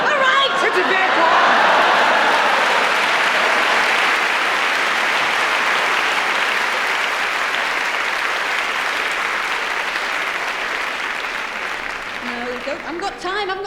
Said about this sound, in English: I haven't got time for applause.